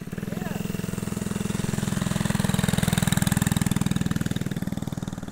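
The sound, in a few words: mini bike engine idling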